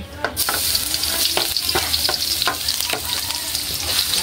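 Garlic sizzling in hot oil in a pan for adobong sitaw, a steady bright frying hiss with scattered crackles and a few stirring scrapes, close and fairly loud throughout.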